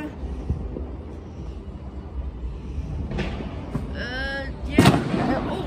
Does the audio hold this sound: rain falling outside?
no